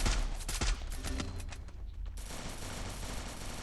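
Rapid gunfire in a battle royale video game: dense, loud bursts of shots crackling back to back, with a brief lull before another sustained stretch of firing.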